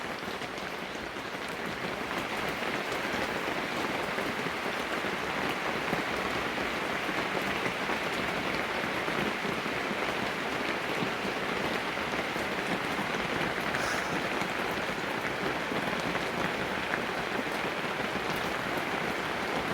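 Steady rain pours outside an orchid greenhouse on a wet day, a dense, even hiss of drops on surfaces continuing unbroken and fairly soft throughout.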